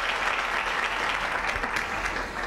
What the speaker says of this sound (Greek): Εδώ θέλει χειροκρότημα.